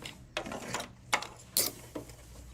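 A sewing machine stitches across a bag handle in short mechanical bursts, separate whirring runs with clicks and pauses between them, close and moderately loud.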